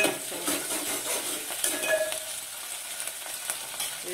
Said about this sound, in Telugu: ఇవి కాస్త ఫ్రై అవని కానీ మూత పెట్టుకొని